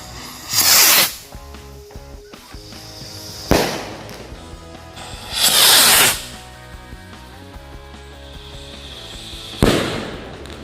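Rocket King firecracker rockets go off in loud, hissing bursts, four of them spaced a few seconds apart, with crackling rumble and scattered pops between the blasts.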